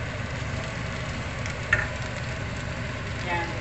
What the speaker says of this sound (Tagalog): I-fry natin siya konti dito.